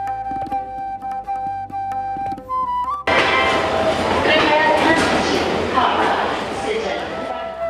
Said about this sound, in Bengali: জম্মু স্টেশনে ট্রেন পৌঁছল তৃতীয় দিন বিকেল 4টে।